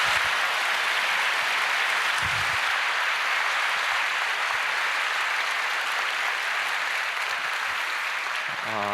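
A church congregation applauds steadily at the close of a sermon, dense clapping filling the space without a break at a constant level.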